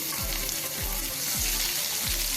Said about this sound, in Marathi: थोडा आपण कढीपत्ता घालूया कांदा आपण आता थोडा गुलाबी रंगावरती परतून घेऊया मंदविस्तवावरती